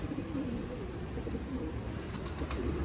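Soft, low cooing of homing pigeons rolls on steadily in a garden, a few birds murmuring together with faint rustling in the background.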